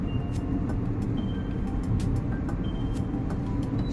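Steady interior road noise of a Tata Tiago NRG petrol car cruising at about 70 km/h, with a constant low rumble of engine and tyres, plus faint scattered clicks and rattles inside the cabin.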